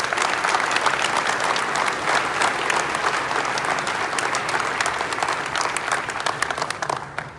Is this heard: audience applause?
yes